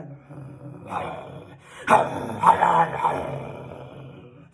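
A person imitates two dogs fighting, voicing growls and snarling barks in a few loud bursts with breathy noises between them.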